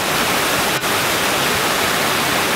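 A huge waterfall in a national park roars steadily as a loud, unbroken wash of rushing water that fills the whole clip.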